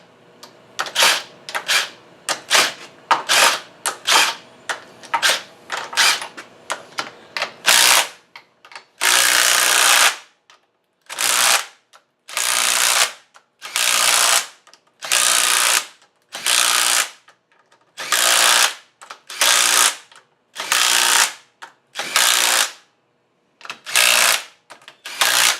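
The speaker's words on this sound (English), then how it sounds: "This gun will torque these things down just about perfectly" An impact gun rattles in rapid short bursts as it runs down 12mm bolts on a Yamaha 1200 NPV cylinder top end, first quick choppy pulses, then a series of longer, evenly spaced loud hammering bursts.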